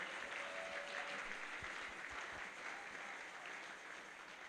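Church congregation applauding at a sermon, a steady broad wash of clapping that fills the whole clip and fades slightly toward the end.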